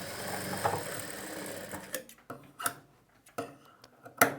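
A sewing machine stitches the main fabric of a blouse, with a short run of motor hum followed by scattered ticking and clicking of the mechanism.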